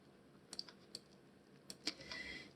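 Keys tapped on a computer keyboard while entering text into a PowerPoint 2016 shape, a handful of faint, sparse clicks spread unevenly across a quiet room.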